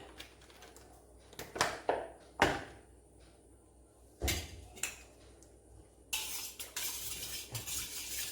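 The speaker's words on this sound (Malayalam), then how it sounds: "കുറച്ച് ഒഴിച്ചു കൊടുക്കുക എന്നിട്ട് നമുക്കിതൊന്ന് നന്നായിട്ടൊന്ന് കലക്കാം" Liquid being poured into a mixture and stirred in a bowl brings a series of clinking spoon taps and scrapes against the vessel, irregular and close, followed by a brief rush of sound at the end, with no speech.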